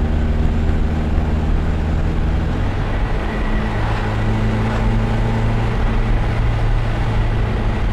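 A 1966 MGB GT drives along with a steady, droning engine hum and road rumble from inside the car, the engine note shifting slightly partway through as it holds a constant pace.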